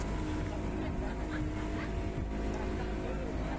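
A speedboat engine drones steadily on a sea crossing to Gili Trawangan, Lombok, with constant loud motor roar and water rush and no break in the sound.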